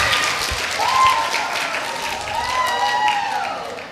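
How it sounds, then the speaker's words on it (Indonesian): Applause from students and guests at a school Quran completion ceremony for ninth graders, a short burst of clapping that swells and fades, with some faint voices and tones underneath. "tepuk tangan buat kelas 9 yang putri ya"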